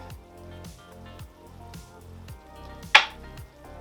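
Pineapple chicken sizzles steadily in a hot pan while it is stirred in a regular rhythm of soft scraping strokes, with one sharp click near the end.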